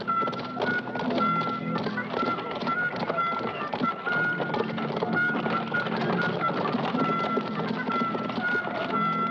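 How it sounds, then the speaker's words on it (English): Horses clip-clop in a steady, busy rhythm of hooves on hard ground, a dense run of overlapping hoofbeats at moderate distance with no voices. "You can send the horses back to the castle."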